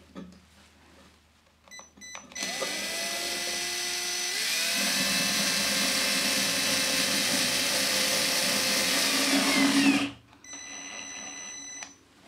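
Power drill fitted with a right-angle attachment driving a fixing into plasterboard to mount a bracket, a loud steady whirring run of about seven and a half seconds with a pitch shift partway through, then stopping abruptly.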